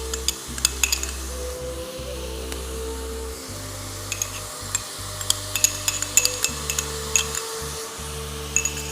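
Garlic ginger paste sizzling in browned onions, a low steady frying hiss broken by sharp clinks and scrapes of a utensil stirring in the pan.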